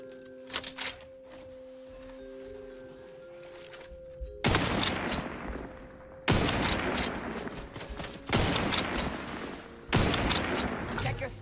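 Gunfire in The Outer Worlds 2: after a quiet stretch with a few faint shots and a droning tone, four loud sustained bursts of rapid automatic fire erupt, separated by short pauses.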